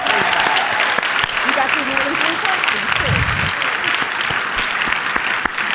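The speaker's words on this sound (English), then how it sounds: "Let's give a round of applause, please." Sustained audience applause at a live talk event, dense and even clapping from a large crowd filling the whole stretch, with a brief voice underneath partway through.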